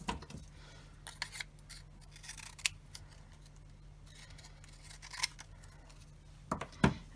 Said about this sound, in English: I'm going to cut off only corner A and B.